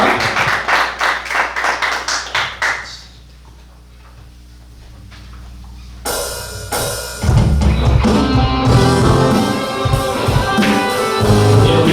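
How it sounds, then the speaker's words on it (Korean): A congregation at a joint church service in Cheorwon claps in a quick, regular rhythm for about three seconds, then falls quiet before loud instrumental music swells in and carries on to the end. "우리 하나님 앞에 감사의 박수를 올려드리면서"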